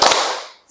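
A classroom of students claps once in unison for the 'tepuk semangat' chant, a single sharp burst that rings out and decays, followed by a faint light sound.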